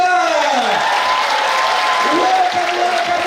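A crowd at a live stand-up comedy show claps for a Ugandan comedian performing as a teacher, steady broadband applause running throughout beneath sustained tonal sounds.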